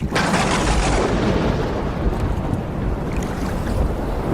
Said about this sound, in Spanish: Las olas están creciendo. Y el viento sopla cada vez más fuerte.